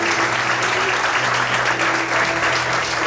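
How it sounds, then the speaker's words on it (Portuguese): A church congregation applauding for Jesus during a service, steady and loud clapping filling the whole short stretch without a break. "Você pode aplaudir mais uma vez a Jesus por isso"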